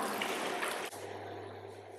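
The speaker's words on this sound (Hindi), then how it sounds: "आंवले डालने के बाद हम यहाँ पर डाल देंगे पानी" Water is poured into a kadhai holding amla (Indian gooseberries), making a steady, fairly close rushing splash for about a second before it cuts off, leaving only a low hum.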